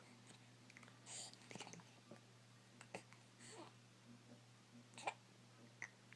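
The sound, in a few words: baby hiccups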